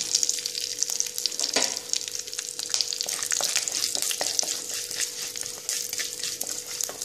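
Mustard seeds and urad dal frying in hot oil for sambar tempering, a steady close crackling sizzle with scattered sharp pops throughout, no voices.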